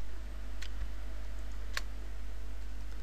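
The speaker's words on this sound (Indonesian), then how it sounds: "kita seleksi dua-duanya dengan menekan tombol Shift di keyboard." A computer keyboard's Shift key is pressed during Blender 3D modeling work, giving a couple of faint, brief plastic clicks over a steady low electrical hum, with no talking.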